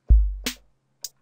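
Drum kit samples in MOTU MachFive 3: a deep kick with a long decaying boom, then a snare crack and a short bright hi-hat or shaker tick, three isolated hits with no talking.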